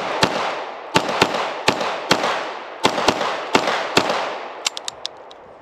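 An IWI Uzi Pro micro pistol fires with a short magazine, sharp loud gunshots in a quick uneven string of about a dozen, some paired, with a few thinner ringing reports at the end.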